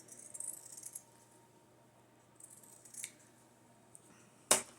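Scissors cut through fabric scraps in a few quiet snips, ending in a sharper metallic click from the blades.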